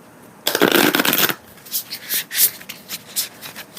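A tarot card deck is riffled in a loud, close burst of rapid card flutter, followed by softer intermittent slides and taps as the cards are shuffled further.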